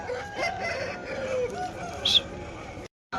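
A crossbred Bhimavaram rooster crows amid steady background noise and murmuring at a poultry market, its call rising briefly above the din before the sound cuts out.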